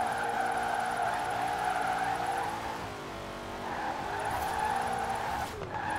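Car tyres squeal in a long continuous skid while drifting at high speed in Forza Horizon 4, the engine droning beneath the screech, dipping briefly midway before swelling again, loud and close.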